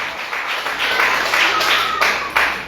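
A church congregation claps together in a burst of loud, steady, close applause, with sharp accents standing out near the end and no speech over it.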